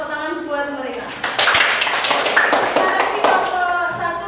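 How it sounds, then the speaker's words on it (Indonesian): Pupils in a primary school classroom clap for a group that has just finished presenting, first a few scattered claps and then a fuller, uneven burst of hand claps, with voices talking over them. "coba berikan tepuk tangan buat mereka"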